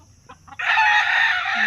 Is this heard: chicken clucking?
yes